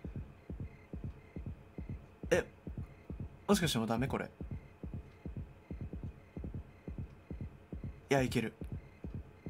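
A heavy, pounding heartbeat from the horror video game Yomawari throbs at a steady fast rhythm through the whole stretch, low and close, while a person briefly speaks over it.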